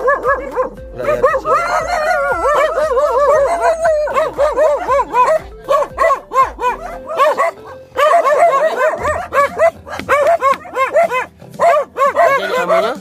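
A dog barks, yips and whimpers almost nonstop for about thirteen seconds, close and loud, its excited yelps and high whines overlapping in quick bursts.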